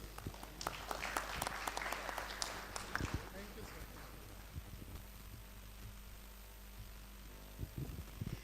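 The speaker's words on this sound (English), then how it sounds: "Round of applause for group number 5, please." Audience applause at an AI hackathon event in Bahrain, a burst of clapping in the first seconds that thins out into scattered claps and room noise.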